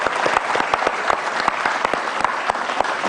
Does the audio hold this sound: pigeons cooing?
no